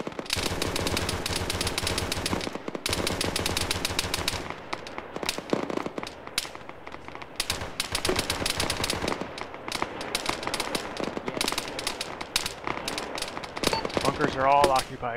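Dense bursts of automatic rifle fire rake bunkers in a military video game, rapid rattling volleys near and loud with brief gaps, while a voice speaks briefly over the shooting.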